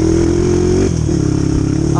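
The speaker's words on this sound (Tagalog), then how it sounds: "Parang nag-iiba yung tono ng motor natin dito." Motorcycle engine droning loudly on a cool, pine-lined mountain trail up Mt. Ugo, its pitch dropping and changing tone partway through as it labours.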